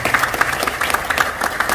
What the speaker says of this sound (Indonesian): Tepuk tangan buat Bapak Ibu ya.